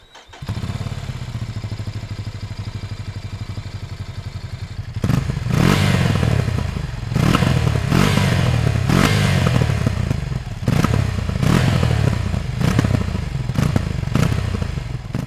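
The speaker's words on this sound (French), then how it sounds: "je t'ai pas fait écouter l'échappement là, mais je te le mets maintenant là" A Ducati Scrambler 800 motorcycle idles with a steady low exhaust rumble, then the throttle is blipped repeatedly in loud revving bursts, each falling back with small crackles, close and continuous.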